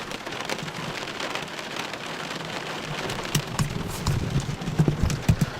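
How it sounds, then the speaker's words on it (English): Rain drums steadily on a car windshield during a thunderstorm, a dense close patter with a few heavier splats toward the end, and no voices. "don't you just love to hear the sound of the rain against the windshield?"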